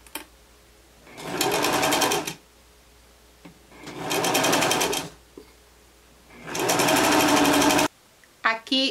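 A sewing machine topstitches a blouse in three steady bursts of a second or so each, fast even needle chatter starting and stopping close by, with quiet pauses between and a short clatter at the end.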